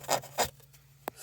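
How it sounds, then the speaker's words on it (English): Two short, soft raspy scrubbing strokes of a Scotch-Brite pad lightly worked over a Grundig reel-to-reel tape deck, followed by a faint tap, close and quiet. "Took a Scotch-Brite, just kind of lightly, attack the area just a little bit."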